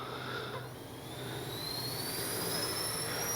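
A Freewing 64mm A-10 Thunderbolt II V3 RC jet powers up for takeoff with flaps down, its electric ducted fans giving a steady, rising whine that stays fairly constant throughout at moderate level, with no talk.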